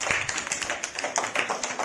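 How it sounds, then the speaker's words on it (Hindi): A group of students in a classroom applauds after a word game, with quick, irregular hand claps close by for a couple of seconds. "जोरदार तालियां बजा दो जल्दी से"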